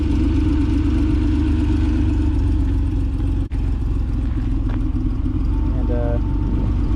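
A 1983 Porsche 911 engine with CIS fuel injection runs steadily at a warm idle, a continuous close mechanical drone with light clatter and one brief sharp click midway.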